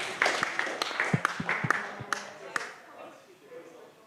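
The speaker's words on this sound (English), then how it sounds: "round of applause for Kin to kick off the first presentation" An audience claps for a presenter about to give the first talk of a lab session, with scattered, uneven claps that taper off over a few seconds under a faint murmur of voices.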